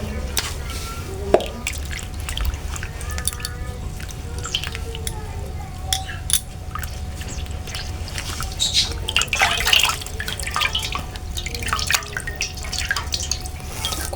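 Ripe, sweet-smelling palm fruits from the tree being washed in water, with irregular drips, splashes and squishy handling sounds at close range, faint speech in the background.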